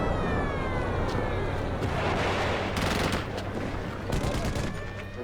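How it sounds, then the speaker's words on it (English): Jordanian guns and mortars shell Jerusalem, sounding as a dense crackle of rapid gunfire and distant blasts layered over a constant low rumble, with a few sharper bursts standing out. "Jordanian guns and mortars start to shell the Israeli half of Jerusalem."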